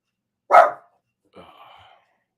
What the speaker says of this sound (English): Ray, stop barking.